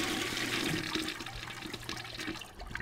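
A toilet flushes in the indie horror video game Death Flush, a steady rushing swirl of water that runs for about three seconds at moderate volume, with no talking.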